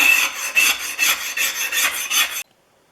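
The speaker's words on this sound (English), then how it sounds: "My scrapers do a great job removing surface rust and flat surfaces" A scraper rasps across a Stanley No. 20 1/2 circular plane, removing surface rust in about eight quick, rhythmic strokes, close and crisp, before stopping suddenly.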